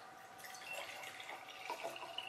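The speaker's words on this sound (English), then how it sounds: "all you're going to do is put about a cup of water into each jar" Water splashes and trickles steadily into a jar, about a cup's worth, with bright liquid sputters throughout and no talking.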